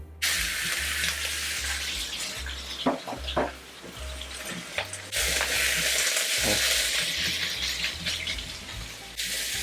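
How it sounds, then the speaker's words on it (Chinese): Pork drops into hot oil in a wok for a Hakka stir-fry, sending up a loud, close sizzle that surges in bursts, dips briefly mid-way, then roars again with scraping stirs and clatter. "先把我们的猪肉放下来"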